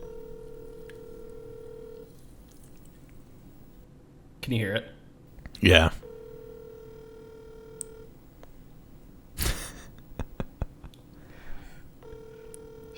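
A telephone call is placed and rings through: a steady ringback tone sounds in repeated bursts, broken by a few louder clicks and handling noises, while people talk quietly nearby.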